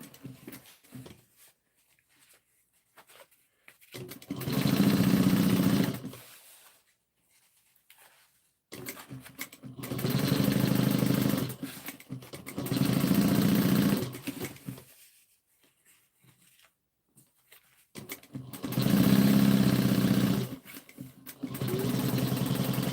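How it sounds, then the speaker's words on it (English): A sewing machine stitches fabric in three or four bursts of several seconds each, a steady whirring hum separated by quiet pauses while the fabric is repositioned. "I'm just going to bring this over to this side and then stitch it down."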